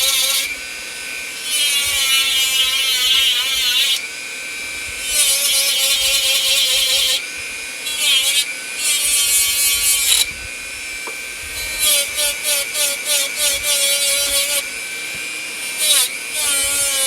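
Power sander working on a tree stump, a high whining drone that starts and stops in several bursts with short gaps between, close and loud, with a voice heard in the pauses.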